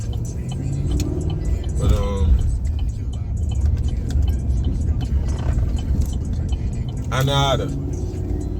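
A car drives along a road, heard from inside the cabin as a steady low engine and road rumble throughout, with a person talking over it.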